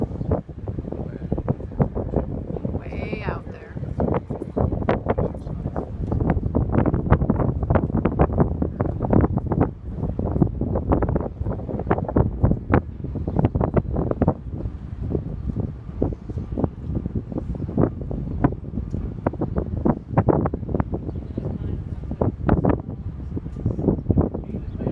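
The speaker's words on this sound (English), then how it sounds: "like summer wind out there." Steady wind buffeting aboard a sailboat sailing into Baltimore Harbor, a constant rough gusty rumble against the microphone throughout, loud and unbroken with no clear speech.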